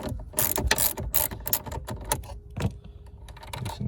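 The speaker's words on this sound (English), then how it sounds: "So we got a little ratchet, and we'll pull that off now." A small ratchet with a 10 mm socket loosens a car battery's ground terminal nut: a close series of quick, sharp clicking bursts, irregular in rhythm, with no talking.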